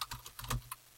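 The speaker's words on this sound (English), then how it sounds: "simply typing and then hitting return when you're done" Computer keyboard typing, a quick run of crisp clicking keystrokes in an irregular rhythm, close and clear with no talk.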